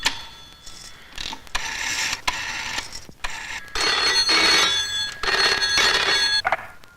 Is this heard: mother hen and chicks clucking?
no